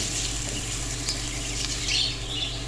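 Finely chopped onion frying in two tablespoons of oil, a steady close hiss and sizzle with light crackling and the occasional stir.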